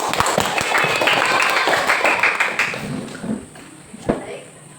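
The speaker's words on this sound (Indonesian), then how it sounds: "Tepuk tangan Bapak." A school prize-giving for a science competition, where a crowd claps for a second-place winner, a dense burst of applause in a room that thins out after a few seconds, with a few scattered claps and voices at the end.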